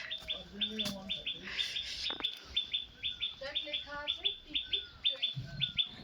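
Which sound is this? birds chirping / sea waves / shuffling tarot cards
birds chirping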